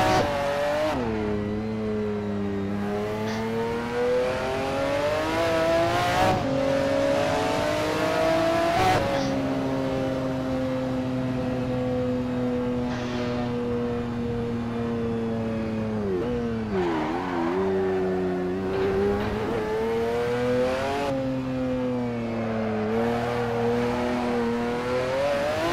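McLaren F1 GTR racing engine in Assetto Corsa around Imola, a loud close roaring engine rising and falling through repeated revs and gear shifts, with occasional tire squeal over a steady track drone.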